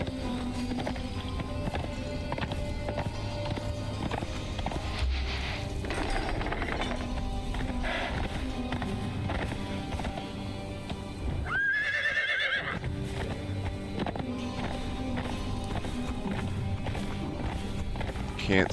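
Horse galloping in the survival video game Conan Exiles, with steady hoof clip-clop and occasional whinnies over a continuous game soundtrack, a brief dip and sharp whinny near the middle.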